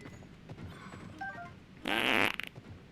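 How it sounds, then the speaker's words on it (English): A loud, buzzy fart sound effect in a video game stream, about half a second long, sputtering out at the end over quiet background game audio. "Thank you for the fart."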